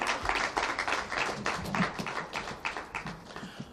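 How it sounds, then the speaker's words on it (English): Audience applause at a staff awards ceremony for a tourism enhancement fund, a dense run of overlapping claps holding steady for several seconds with faint voices beneath. "You don't have to clap yourself, but I believe those who are not there can."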